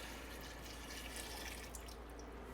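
Filtered water pours steadily from a container into a Ninja Foodi multicooker pot, a soft continuous wash of liquid at low level with no talk over it.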